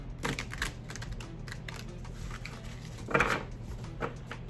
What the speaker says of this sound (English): Let's do a couple of soft shuffles